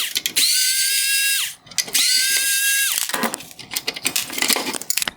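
A power screwdriver backs T20 screws out of a headlight bracket on a 2019-2020 Mercedes-Benz C400 Multi-Beam LED headlight, two whining motor bursts close up, followed by clicks and rattles of parts being handled.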